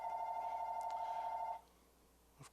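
A telephone rings faintly in a room with a steady electronic tone lasting about a second and a half, then falls quiet.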